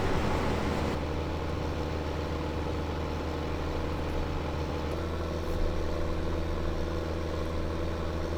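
A tractor engine in the video game Farming Simulator 2015 runs with a steady, loud, droning rumble that continues evenly for the whole stretch, with no talk.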